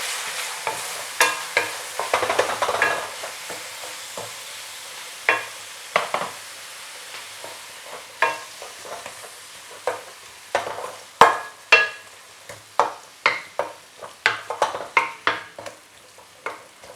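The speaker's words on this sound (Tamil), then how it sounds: "இதில் வந்து இப்போ வெங்காயம் போட போகிறேன்" Finely chopped onions sizzle steadily in hot oil for an egg curry while a utensil scrapes and clatters against the pan in frequent, irregular strokes, close and fairly loud.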